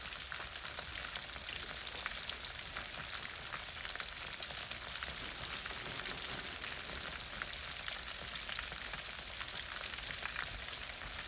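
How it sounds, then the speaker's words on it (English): Coated fish fries in a pan with an even, rain-like hiss of hot oil that stays constant and fairly soft throughout, with no other sounds on top. "So I'm just gonna let this fry for just a minute."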